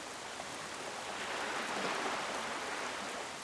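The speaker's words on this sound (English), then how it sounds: "You can hear the rain." Steady rain falls in The Legend of Zelda: The Wind Waker HD at Great Fish Isle, a dense, even hiss that holds at a constant level throughout, with no voices present.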